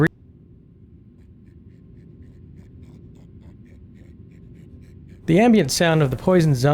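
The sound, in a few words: poisoned zombie ambient breathing, Half-Life 2 video game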